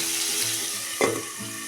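Red pumpkin pieces sauté in oil and crackle with a soft, even sizzle, and one clearer scrape or clatter of a spoon comes partway through.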